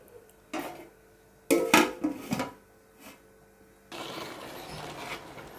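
A metal lid is set on a pot of chicken fry biryani with a few clattering knocks and scrapes of cookware. A softer rustling stir follows, with no voices.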